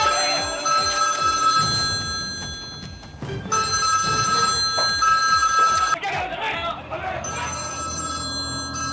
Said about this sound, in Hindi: हरदीप का ड्राइवर नंदलाल हरदीप को फोन लगाता है।